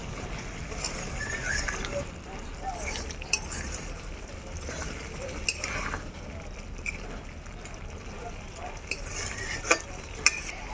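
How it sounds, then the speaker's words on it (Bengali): Palak paneer is stir-fried with butter in a pan, a steady close sizzle under continuous stirring and scraping, broken by occasional sharper clinks of a spoon against the metal. "একটু বাটার দিয়ে আর একটু কষিয়ে নামিয়ে নেব।"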